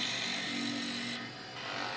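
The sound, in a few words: skew chisel cutting wood on lathe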